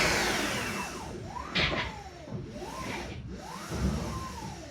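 An electric motor spinning freely revs up and then spins back down while regenerating, making a whining tone that sweeps up and down in repeated arcs over a steady whirring hum.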